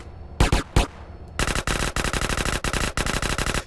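Automatic gunfire in the video game GTA San Andreas: two quick isolated shots, then sustained rapid bursts of rattling fire in short volleys, loud and close, with no talking.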